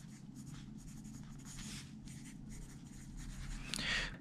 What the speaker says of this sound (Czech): Nejdřív zkusíme klasickou tužku.